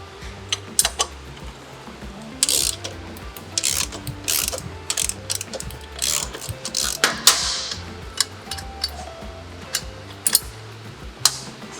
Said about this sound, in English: to remove the axle nut. And I'm going to actually put an 18mm on the other side of the axle to hold it